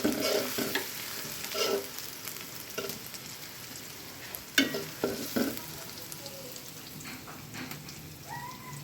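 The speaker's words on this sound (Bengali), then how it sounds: "এখন মুগ ডাল রান্না করতেছে, ডাল প্রায় হয়ে আসছে, বাগার দিবে।" A tempering of hot spices sizzles steadily for mung dal cooking in a pot, a dense frying hiss broken by a few sharp clatters of stirring.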